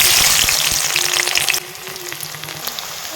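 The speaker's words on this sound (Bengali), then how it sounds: "চিনিটা যখন পুড়ে লাল এরকম হয়ে যাবে তখন এবার দিয়ে দিতে হবে পেঁয়াজ।" Onion hits hot oil and caramelised sugar with a loud, dense sizzle that eases after a sharp drop midway, with a few faint stirring clicks and no talking.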